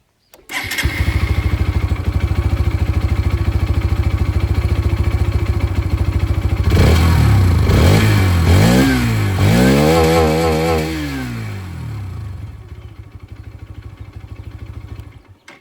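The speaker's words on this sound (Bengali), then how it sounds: "চলুন তবে এর যে এক্সস্টটা, এটার আওয়াজটাও আমি আপনাদেরকে এখানে একবার শুনিয়ে দিই।" Hero Xtreme 160R 4V motorcycle exhaust, loud and close, idling steadily before several sharp throttle revs rise and fall, then settling back to a lower idle.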